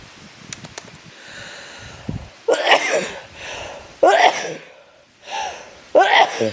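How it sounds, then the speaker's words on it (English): Several loud sneezes close up, spaced a second or so apart, after some soft rustling and brief mouth sounds. "First morning sneezes."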